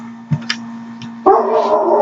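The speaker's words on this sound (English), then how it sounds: "Mind the dogs, they bark at just about everything." Household dogs let out a couple of short yips and barks, close by, followed by a louder broader burst of barking over a steady low hum.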